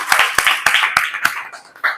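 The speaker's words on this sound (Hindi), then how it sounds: "एक बार जोरदार ताली हो जाए खुद के लिए" Students in a Class 10 classroom clapping for themselves, a rapid burst of sharp, close hand claps in quick irregular rhythm lasting about two seconds, with a brief vocal sound near the end.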